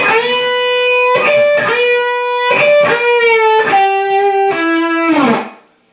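Electric guitar playing a lick, with slow string bends, a slow bend release and wide vibrato on sustained notes. Six phrases ring out close and loud with a distorted tone, then the last held note fades away.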